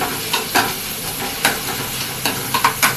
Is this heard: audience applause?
no